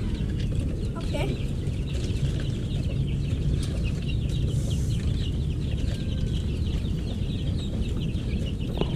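Shamo gamefowl roosters cluck in a backyard under a constant dense bed of outdoor noise, with scattered short calls and voices faintly in the background.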